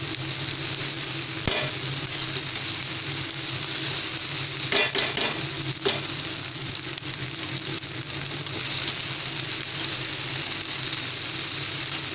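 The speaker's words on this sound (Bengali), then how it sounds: "এবার এগুলো ভাজা হওয়াকালীনই আমি কিন্তু কিমা এবং সয়া চাঙ্কগুলোকে দিয়ে দিলাম বা ভালোভাবে মিক্স করে নিচ্ছি" Minced meat and soya chunks fry and are stirred in a pan, giving a steady, close sizzle throughout with occasional scraping clicks of a utensil against the pan.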